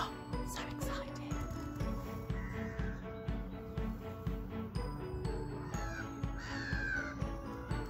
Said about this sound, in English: I can hear a lot of seagulls